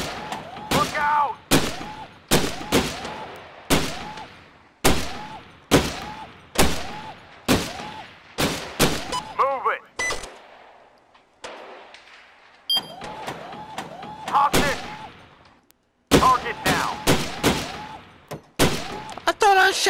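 Pistol shots in the VR shooting game Gun Club VR, sharp and loud, fired singly and in quick clusters with metallic mechanical clicks between volleys and a brief quieter lull midway.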